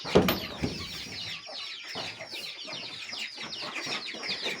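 Chickens cluck and murmur close by in a backyard pen among ducklings and chicks, a scatter of short soft calls with one louder squawk at the start.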